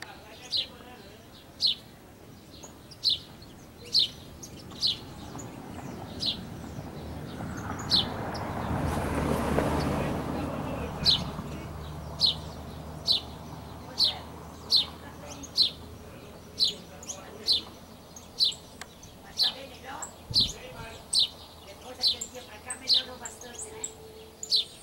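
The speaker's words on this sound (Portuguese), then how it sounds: "Esse é o canarinho. Canarinho amarelo, canarinho conhecido como canarinho da terra." A saffron finch chirps at a bird feeder on a rural farm, giving a steady series of sharp, evenly spaced calls throughout, with a passing vehicle rumble in the middle and faint talk at times.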